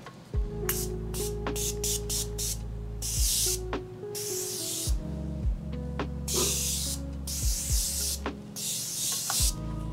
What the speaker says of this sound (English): We need the Morphe setting spray.